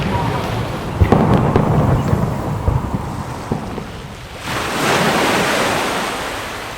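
Waves wash and wind buffets the microphone at Portsmouth Harbour, a rushing broadband roar that dips briefly and then swells again, close and fairly loud.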